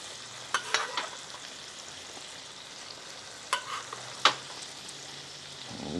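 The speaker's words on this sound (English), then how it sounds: "I'm gonna start basting this steak in this garlic butter with thyme" A ribeye steak is basted in a tilted pan of garlic butter with thyme, giving a quiet background sizzle broken by a few sharp spattering bursts as the hot butter is spooned over the meat.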